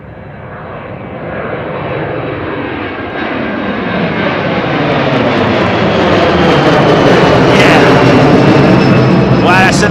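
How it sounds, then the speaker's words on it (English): An old jet aircraft's engine roars loud and steady, swelling gradually as the aircraft comes closer, near a cargo airport roadside; a voice can be heard briefly under the engine noise. "That's an old jet, that is,"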